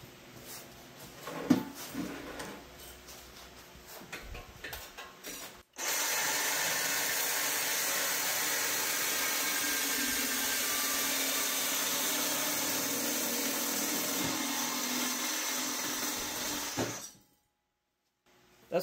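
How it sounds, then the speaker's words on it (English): A Sawzall reciprocating saw cuts through a welded muffler pipe in a home garage, a loud, steady buzzing grind running about twelve seconds after some scattered clanks and handling noises, then stopping abruptly. "now I'm going to hit it with the Sawzall"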